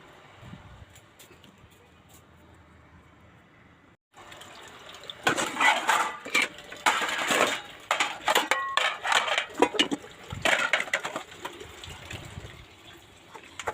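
After a quiet start, a household tap opens and water gushes into a bucket, a loud, splashy, fluctuating stream that continues to the end.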